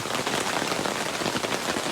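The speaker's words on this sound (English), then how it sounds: "it's a little bit rainy" Steady rain from a sudden pop-up storm patters densely and evenly on nearby surfaces, a continuous close wash of drops with no voices.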